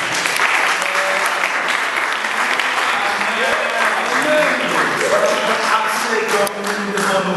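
Church congregation breaking into sustained applause during a sermon, a thick continuous roar of clapping with cheering voices layered over it, loud and unbroken throughout.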